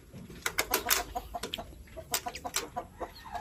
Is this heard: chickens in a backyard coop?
yes